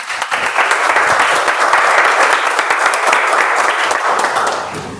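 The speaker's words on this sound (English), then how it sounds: "Give a big applause to them" Audience applause for speakers at a Toastmasters club meeting, dense continuous clapping from a room of people that swells and then gradually tapers off.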